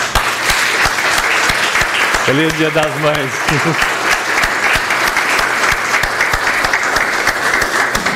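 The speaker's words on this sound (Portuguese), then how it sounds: "eu quero aplaudir todas as mães aqui presentes" A church congregation applauding the mothers on Mother's Day, loud steady clapping throughout, with a brief spoken voice partway through.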